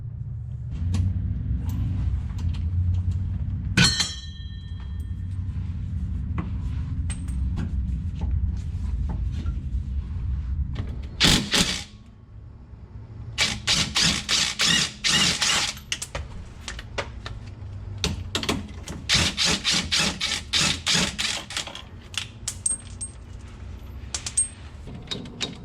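Bolts come off with 9/16 wrenches and a 3/4 impact gun during bracket removal: a low rumble and a sharp clank at first, then bursts of rapid rattling impact-gun hammering with short pauses between.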